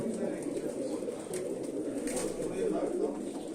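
Pigeons coo softly in a low, throaty murmur, a continuous gentle burble with faint background noise.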